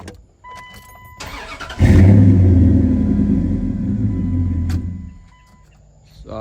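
A Dodge Dakota R/T pickup truck just fitted with a new fuel pump cranks and starts, then settles into a loud, close, steady idle rumble before the engine note drops back near the end.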